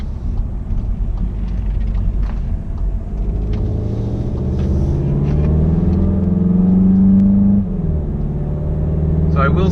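A Volkswagen MK7 Golf GTI with a DSG automatic transmission pulls along a road, its engine note droning and rising steadily from inside the cabin, then dropping off suddenly near the end, with a person talking over it.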